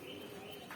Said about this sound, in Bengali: খুব সুন্দর কবুতর জোড়া